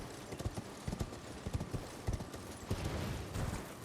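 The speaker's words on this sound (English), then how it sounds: "we're just going to get on our horse and we're going to come down" Rhythmic clip-clop of a ridden horse's hooves in a video game, a steady run of close, fairly loud hoof strikes with no talk.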